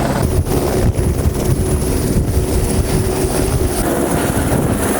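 An AS350 Écureuil helicopter roars close and loud, its rotor thumping steadily with a constant engine whine throughout.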